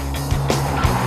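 A Mercedes C-Class, 2012 generation, with its engine pulling hard under acceleration, a steady low drone with a couple of brief swells, heard from inside the cabin.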